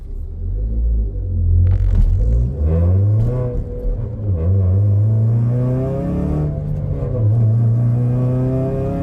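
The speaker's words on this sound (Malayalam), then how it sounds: "നൈസായിട്ട് ഒന്ന് ആക്സിലേറ്റർ കൊടുക്കാം. നൈസായിട്ട് സ്പീഡിൽ പോകണമെങ്കിൽ, നൈസ് ട്രാക്ഷൻ കിട്ടണമെങ്കിൽ ട്രാക്ഷൻ കൺട്രോൾ ഓഫ് ചെയ്യണം." A Honda Civic Si accelerating on a rainy road with traction control switched off, its engine rumbling loudly and rising in pitch through several gear pulls, heard steadily from inside the car.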